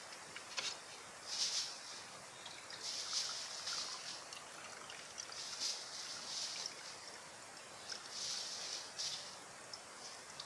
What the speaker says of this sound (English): I will wait for a little to drain the filter